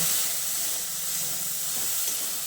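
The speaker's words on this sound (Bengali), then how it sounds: "তারপর নুন আর হলুদের গুঁড়োটা দিয়ে আলুটাকে কিছুক্ষণ ভেজে নেব।" Small diced potatoes frying in a pan with salt and turmeric, a continuous even hiss and sizzle with no voices.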